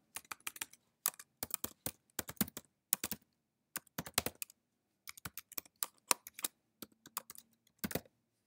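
Bursts of typing on a computer keyboard while filling in a registration form, clusters of quick close key clicks separated by short silent pauses.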